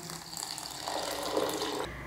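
Water poured into a mixer-grinder jar of soaked moong dal, a close, steady trickling splash that runs for about two seconds and then cuts off abruptly, with no talking.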